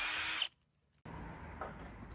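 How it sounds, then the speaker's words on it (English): An SP Tools impact gun on the flywheel bolts of a 1JZ engine in an S13, running in two loud close bursts split by a half-second gap of silence. "I'm going to use this new SP Tools gun on the flywheel bolts just to show you guys how powerful this thing is."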